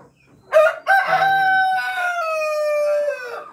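A Rhode Island rooster crows nearby, one loud, drawn-out cock-a-doodle-doo that rises sharply and then holds and tapers over a few seconds, heard alone on a farm.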